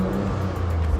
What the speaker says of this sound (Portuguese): vamos escutar um pouquinho o ronco do carro